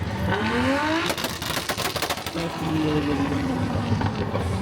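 A loud tuned car engine revs up and down close by at a car meet, exhaust roaring with rising and falling pitch, and rapid crackling pops in the middle.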